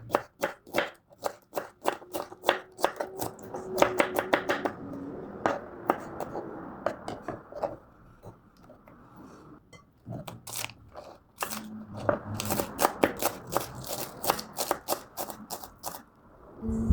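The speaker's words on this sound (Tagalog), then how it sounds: "Then hiwain lang natin ito ng maliliit." Knife chopping deseeded vegetables into small pieces for a salad, rapid close crisp cuts in bursts with a quieter pause in the middle, then another run of chopping.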